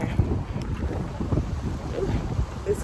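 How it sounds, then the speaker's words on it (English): Cold wind blowing outdoors beside a truck under roadside repair, buffeting the microphone with a low, uneven rumble and no talk. "It's cold and windy"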